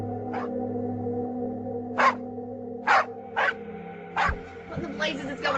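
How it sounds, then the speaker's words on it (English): Several dogs barking hard at night on a Kentucky homestead, sounding in a few separate sharp bursts over a steady low droning background. "Lucky's dogs began to bark violently as if an intruder was on the property."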